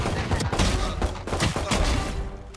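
Gunfire in a shooter video game, several loud, punchy shots in quick bursts close by, filling the short stretch with no talking.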